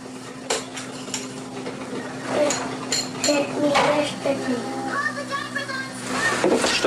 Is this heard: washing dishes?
yes